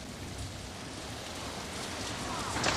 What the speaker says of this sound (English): Torrential rain sweeps in from the north.